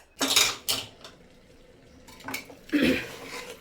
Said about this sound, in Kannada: ಮುಚ್ಚಳ ಹೀಗೆ ಮುಚ್ಚಿಬಿಟ್ಟೇ ಎಲೆಕೋಸು ಒಂದು 2 ನಿಮಿಷ ಬೇಯಿಸ್ಕೊಳ್ಳೋಣ ಫ್ರೆಂಡ್ಸ್